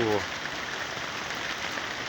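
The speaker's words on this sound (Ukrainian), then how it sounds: "ось почався дощ" Summer rain falls steadily on a berry-picking spot, a dense continuous hiss of drops, with a voice speaking briefly at the start.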